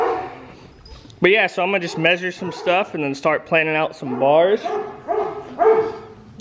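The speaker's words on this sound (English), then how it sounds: "Excuse the dogs, I don't know what their problem is today," Dogs bark and yip in the background while someone talks steadily over them, the barking mixed under his voice.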